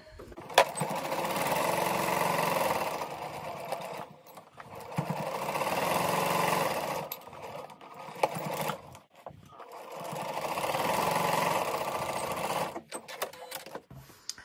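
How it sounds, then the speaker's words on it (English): Sewing machine stitching a maple leaf quilt block, three steady motor bursts of a few seconds each with short pauses and handling clicks between them. "And we'll just stitch away."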